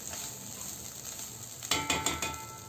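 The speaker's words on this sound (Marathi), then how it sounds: "आता आपण हा तांदूळ छान परतून घेतला आहे ड्रायफ्रूट्स आणि तुपामध्ये" Rice being sautéed in ghee with dry fruits in a pan for coconut rice, a soft steady sizzle that turns into a few louder rhythmic scraping stirs near the end.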